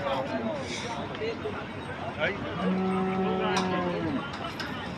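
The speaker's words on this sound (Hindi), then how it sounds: "और गाय बहुत अच्छी है, कद काठी में भी बढ़िया है।" A cow of mixed breed moos at a busy cattle market in Gorakhpur, one drawn-out low call lasting over a second, rising from a background of crowd babble and talk.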